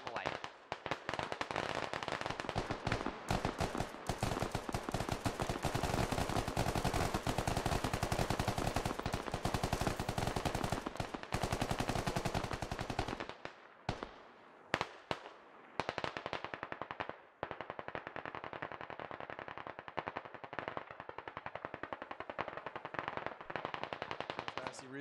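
Automatic gunfire in the military shooter game Squad: dense, rapid bursts blaze almost continuously for about thirteen seconds, then thin out into scattered, sparser shots, with voices talking over the fire.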